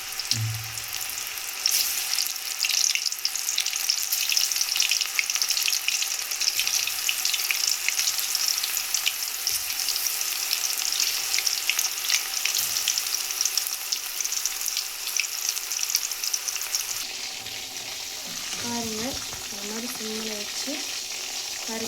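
Beef kola balls frying in hot oil give a steady, close sizzle with stirring, running alone and unbroken, then thinning out toward the end.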